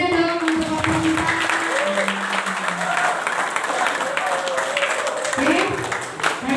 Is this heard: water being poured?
no